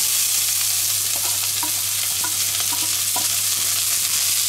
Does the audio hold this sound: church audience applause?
no